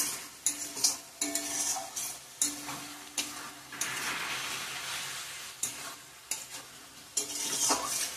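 Fried potatoes and spice paste sautéed in oil in a pan, with repeated scraping and stirring strokes in an uneven rhythm over a steady sizzle, close up and with no talk.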